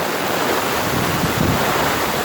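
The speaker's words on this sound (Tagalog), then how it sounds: "Sobrang lakas ng ulan, ang bilis lumaki ng ilog dito." A dense, steady roar of a swollen, rushing river and pounding heavy rain fills the scene, loud and unbroken, with no voices.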